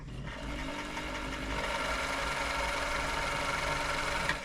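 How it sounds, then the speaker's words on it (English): An Elna Supermatic sewing machine stitches steadily with a soft, even, very quiet mechanical whir, running continuously without any voices. "I don't think you'll find a quieter sewing machine than this."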